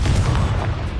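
A Confringo explosion spell in a wizard video game bursts as a loud, dense, boomy blast with heavy low rumble, sustained for about a second without speech.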